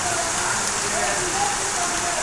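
Heavy rain pours down in a dense, constant roar with no breaks, loud and close.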